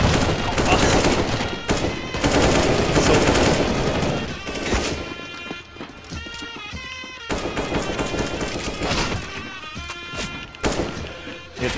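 Bursts of automatic rifle fire from CS:GO rattle in loud, dense volleys, with short pauses between strings of shots and a player's voice talking over the gunfire.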